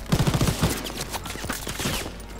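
Gunfire in the World War 2 shooter game Call of Duty WW2, a dense rapid burst of shots at the start that gives way to continuous crackling battle noise.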